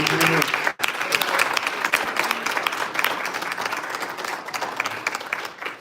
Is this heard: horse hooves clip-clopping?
no